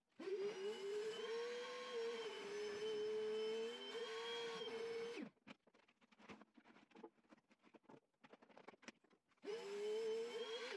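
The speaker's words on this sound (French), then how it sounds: "cet aspirateur fait vraiment très peu de bruit, c'est très agréable de travailler avec" An Einhell TC-VC 18/20 cordless vacuum cleaner runs with a steady, fairly soft whine and whoosh, stops for several seconds of scattered rattling and ticking as debris is handled, then starts up again.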